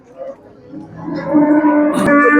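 A cow moos loudly and close by at a cattle market in Navoiy, one long drawn-out low call that swells toward the end, with faint farmyard noise at the start.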